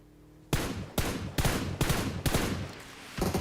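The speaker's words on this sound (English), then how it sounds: "Team E, Arena and BTR, man, they're just exchanging shots" Rapid bursts of gunfire trade back and forth in a PUBG esports grand final match, five or six loud volleys of shots with short gaps between them, close and dense, with no voices.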